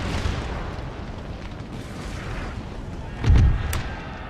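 Booming cannon and musket fire from a Napoleon Total War battle: a steady low rumble of distant volleys, then one louder close artillery blast near the end.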